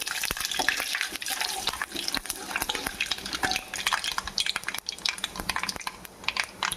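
Mustard seeds, cumin, chana dal and other lentils fry in hot oil in a pan for a mushroom curry, a dense close crackle of rapid pops and sputters that keeps on without a break and with no voice over it.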